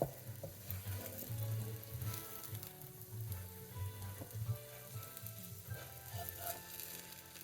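French toast frying in a pan as it browns on the bottom, a soft, continuous sizzle close by with faint shifting crackles and a low background hum, no voices.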